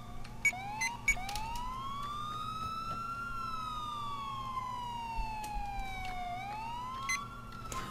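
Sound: police car siren from a video game

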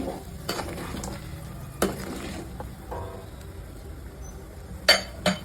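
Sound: stirring crushed garlic into fish curry in a pan

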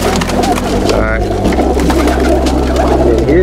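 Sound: roller pigeon cooing

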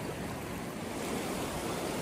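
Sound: river flowing beside a trek campsite

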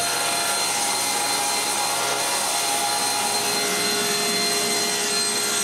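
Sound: cutting recycled wood for pantry bottoms

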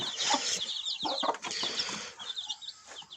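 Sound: chickens clucking

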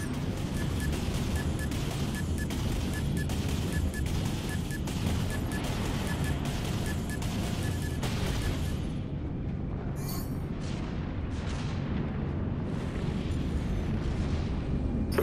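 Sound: warship launching torpedoes and explosions, Dreadnought video game

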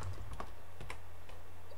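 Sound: typing on a new computer keyboard

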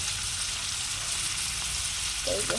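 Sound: small fish frying in oil with dry chili powder

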